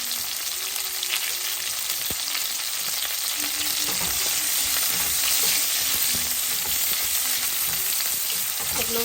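White onion fries in a pan with a loud, constant sizzle and crackle that holds steady the whole time, with occasional faint stirring sounds and no talking.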